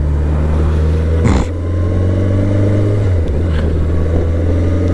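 A BMW K1100LT motorcycle engine pulls in third gear, a loud, close, steady drone with harmonics that shift pitch as the revs change, a brief gear-change dip midway.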